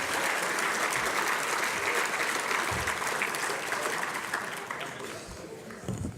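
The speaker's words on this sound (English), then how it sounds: "How about another round of applause for all of our 4 wonderful prize winners?" Warm applause from a luncheon crowd for prize winners, a dense steady clapping that gradually thins and fades toward the end, with faint murmuring voices underneath.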